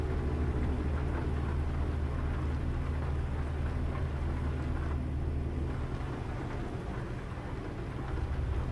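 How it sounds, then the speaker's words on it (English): Steady rain drums inside a truck cab in American Truck Simulator, a dense, constant wash of patter over a low engine rumble, continuous for the whole stretch with no voices. "it would be nice if this stupid rain would stop"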